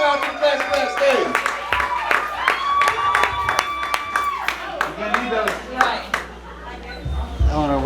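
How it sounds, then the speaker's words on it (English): Applause and scattered cheering from a small open mic crowd at the Klassy Glass venue in Waco, with rapid claps and whoops as a mixed, lively wash under a host's voice. "I want you guys to give a big round of applause for Eleanor, first time to the Klassy Glass stage"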